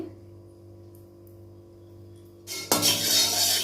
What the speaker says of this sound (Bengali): একটা বড় কড়াই বয়েছি এটার মধ্যে মিক্স আমি আমি কড়াইটাতে একটু ঘি দিতেছি